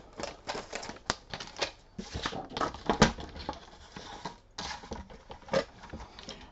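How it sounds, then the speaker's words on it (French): Paper squares being cut for a handmade mini album, heard as a run of close, crisp cutting snips and taps of irregular rhythm with short pauses, no talking. "Alors, nous allons couper des carrés."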